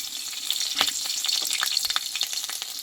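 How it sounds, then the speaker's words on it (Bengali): Nigella seeds and two slit green chilies sizzle in hot refined oil in a heated kadai, a close, busy crackle that holds steady throughout with no talking. "দেখো কড়াটা কিন্তু গরম হয়ে গেছে আমি কড়াইয়ে দিয়ে দেবো রিফাইন তেল আর এখানে দেব হাফ চামচের কম কালো জিরে আর দিব দুটো কাঁচা লঙ্কা চেরা"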